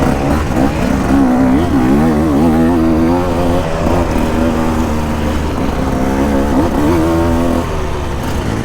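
A 2024 KTM 150 EXC two-stroke dirt bike engine revs hard while being ridden, a loud, steady buzzing drone with rising and falling pitch sweeps as the throttle opens and closes, close to the rider.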